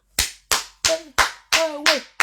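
Seven sharp, separate hand claps ring out in a slow, slightly uneven rhythm, loud and close, with a short tonal voice-like sound under some of the later claps.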